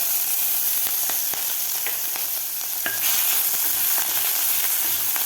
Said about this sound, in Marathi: थोडंसं फ्राय करून घ्यायचं आहे जास्त फ्राय करायचं नाही